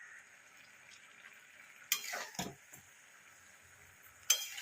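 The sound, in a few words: stirring spinach chochori in a pan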